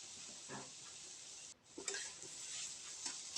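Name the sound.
frying motor kolai greens with cumin in oil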